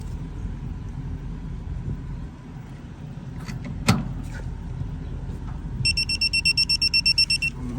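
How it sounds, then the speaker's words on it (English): A digital torque wrench, tightening a fitting at 40 foot-pounds on a Carrier mini split condenser, gives a rapid run of about a dozen short, clear electronic beeps near the end, over low mechanical rumble and a sharp clank. "When you get a solid beep, then you know you're at 40."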